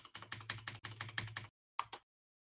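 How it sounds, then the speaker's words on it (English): Rapid typing on a computer keyboard rattles in quick bursts of clicks for about a second and a half, then stops before one last short flurry of keystrokes, close and clear with no talking. "A bunch of typing."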